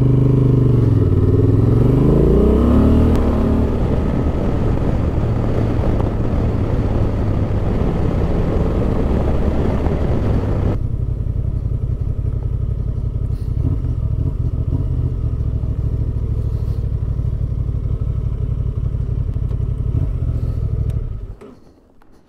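A 2023 Honda XL750 Transalp motorcycle rides along, its engine a loud steady drone with a rising rev early on, then a long even cruise until it quickly cuts off at the end.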